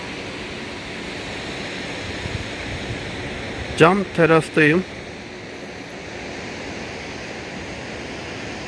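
The Gelin Tülü waterfall at the Ayder plateau in Rize gives off a steady, broad roar that runs unbroken from start to finish, and someone speaks briefly over it partway through.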